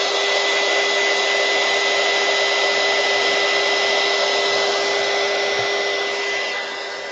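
A hair dryer runs steadily and loudly throughout, blowing over a mixed media artwork at close range, tailing off slightly at the end with no talk.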